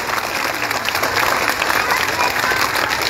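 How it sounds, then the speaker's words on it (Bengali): Audience applause at a political rally, a dense steady wash of clapping from a large crowd, loud and continuous for the whole stretch with no pause. "এই যে করতালির যে শব্দটা হলো"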